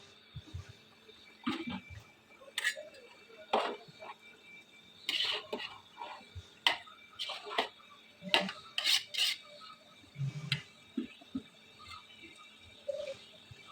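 Intermittent scraping and clinking of a utensil stirring rice into vegetable biryani masala in a pot, irregular strokes with quiet gaps, close by and moderately soft.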